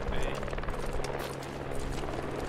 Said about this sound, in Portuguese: helicóptero inimigo aí